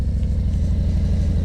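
Motorcycle engine idling low and held at steady throttle in the clutch friction zone under 2,000 RPM, a continuous close, even rumble with no revving.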